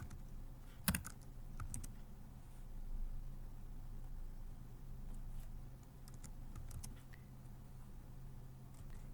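Faint keystrokes on a computer keyboard as code is typed, a few scattered soft taps over a steady low hum, with one sharper click near the start.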